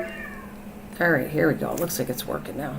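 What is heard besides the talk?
cats meowing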